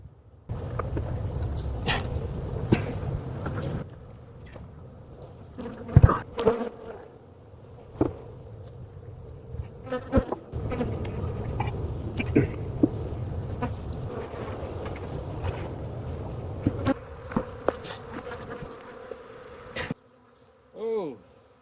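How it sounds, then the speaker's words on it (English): Dense, steady swarm of honey bees buzzing around an opened hive during a late-season inspection, loud and continuous across the whole stretch, with brief handling knocks, a dog briefly audible, and near-silence only at the end. "if I wanted bee activity, I got bee activity"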